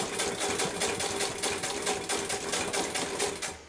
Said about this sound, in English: Quite nice and relaxing with the treadle, actually.